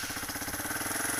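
Car engine just after a cold start, idling very slowly with a low, lumpy, steady chug, close and continuous without talk.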